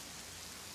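Steady rain falls in a quiet, even hiss with no voices, a soft, fairly faint wash of drops that holds without a break.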